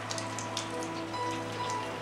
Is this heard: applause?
no